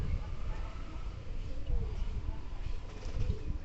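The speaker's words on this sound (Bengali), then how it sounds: "দেখেন কত সুন্দর ডাক আমার কবুতরের।" A Giribaz pigeon coos softly at dusk under a cloudy sky as the birds return home, with low repeated coos over a steady outdoor background.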